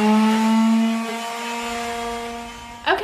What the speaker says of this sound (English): I'm just going to go ahead and sand this trim board.